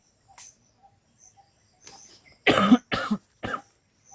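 Three short, sharp coughs in quick succession stand out clearly, preceded by faint scattered clicks and rustling in an otherwise quiet space.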